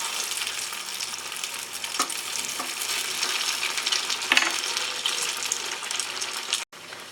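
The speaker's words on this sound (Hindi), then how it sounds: "तेल गरम होने पे हम कचौरी को फ्राई करेंगे।" Bread kachori deep-frying in hot oil over a lowered gas flame, giving a steady, close crackling sizzle that runs throughout with a few small clinks, and no talk.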